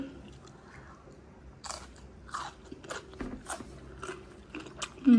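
Crisp crunching bites and chewing of foraged wild greens eaten indoors in a living room, a series of close, irregular crunches over quiet background.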